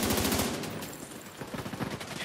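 Rapid automatic gunfire aimed at a turret in The Division 2, a loud, close burst of fast repeating shots with no talking.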